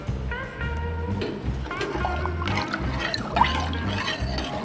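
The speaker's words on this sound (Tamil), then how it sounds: "தண்ணி சேர்த்தியாச்சு." Water pours and splashes into a cooking pot close by while making avarai paruppu rice, a steady liquid gurgle with some dripping, no talking.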